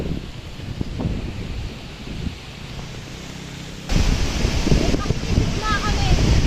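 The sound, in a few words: strong wind during a bike ride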